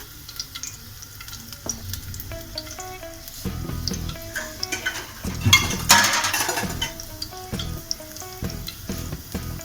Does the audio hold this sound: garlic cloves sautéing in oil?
yes